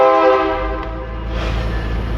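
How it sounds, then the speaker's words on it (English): A train horn blares nearby outside a garage, a loud sustained harmonic blast that fades out while a low rumble of the passing train continues underneath. "Oh, these horns, these trains, killing me."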